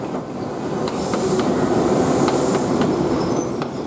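A train to Galle, Sri Lanka, rumbles steadily along the rails with faint rhythmic clicks and occasional wheel squeals, heard from inside at moderate volume.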